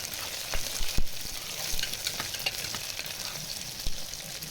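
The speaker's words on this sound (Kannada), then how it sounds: "ಫ್ರೈ ಆದಂಥ ಈರುಳ್ಳಿಗೆ ನಾನಿವಾಗ ಮೆಣಸಿನ್ಕಾಯನ್ನು ಹಾಕ್ತಾಯಿದ್ದೀನಿ" Onions and green chillies fry in a pan for vegetable pulav, giving a steady close sizzle broken by a few sharp scraping stirs, with no one talking.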